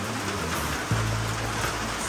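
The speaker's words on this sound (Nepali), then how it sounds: "कत्रो ठुलो पानी पर्दैछ" Heavy rain pours down steadily, a dense, loud and continuous hiss with no gaps and no voices over it.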